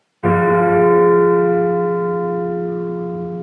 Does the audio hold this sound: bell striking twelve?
yes